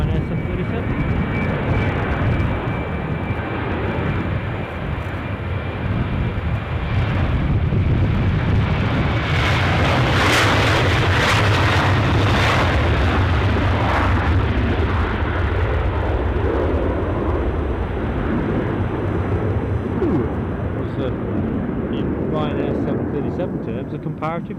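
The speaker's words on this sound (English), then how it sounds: "Watch this Porto bound Ryanair 737." A Ryanair Boeing 737 bound for Porto at Edinburgh Airport, a loud sustained jet engine roar that swells in the middle with heavy wind buffeting on the microphone throughout.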